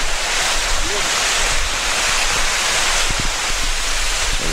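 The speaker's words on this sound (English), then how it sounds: "It's a 21 meter cascade waterfall, and it's on the Tiffany Creek" A 21-meter cascade waterfall on Tiffany Creek at Tiffany Falls gives off a loud, steady, unbroken rush of falling water, with some wind buffeting the microphone.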